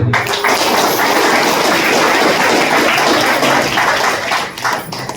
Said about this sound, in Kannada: ಒಮ್ಮೆ ಅವರಿಗೆ ಮೊದಲು ಚಪ್ಪಾಳೆ